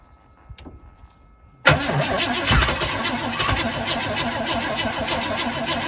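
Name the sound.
1997 Chevy Blazer engine cranking, flooding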